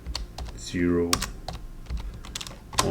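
A computer keyboard clatters in quick bursts of keystrokes while someone edits a file on an Ubuntu server, with someone talking over the close, crisp typing.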